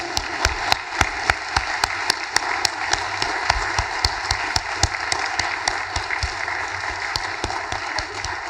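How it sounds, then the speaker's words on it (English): A ceremony audience claps for a class at a convocation, giving steady, moderately loud applause with sharp individual claps standing out in a regular rhythm throughout. "let's clap for them"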